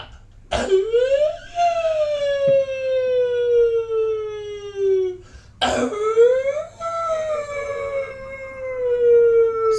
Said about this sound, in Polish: Syrena jedzie.